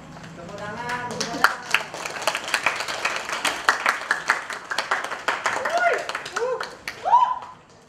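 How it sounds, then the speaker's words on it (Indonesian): An audience claps in scattered, uneven bursts while voices talk and call out over the clapping, which rises and falls rather than holding steady. "Tepuk tangan."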